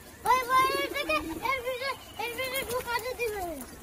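Pigeons give a series of rolling, close coos in several bursts. A voice joins faintly.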